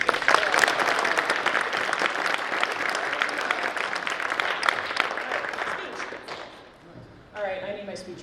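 Sustained applause from a school audience at an academic awards ceremony, dense steady clapping for about seven seconds before it thins out, followed by a brief tonal sound near the end.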